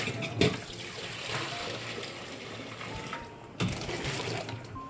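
Hot water splashes and trickles steadily into a metal pot used for making ghee, with two sharp clanks of metal at the start and near the end.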